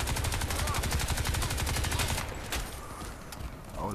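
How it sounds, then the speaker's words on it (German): Rapid gunfire bursts from an enemy firing from behind in the shooter game Crysis 2, loud and dense for about two seconds, then a single sharp shot followed by quieter rumbling combat ambience. "da schießt mir noch einer von hinten ins Kreuz gerade"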